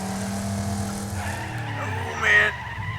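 A racing video game car drifts with a sustained tire squeal over a droning engine note, the skid rising in pitch and swelling louder near the end.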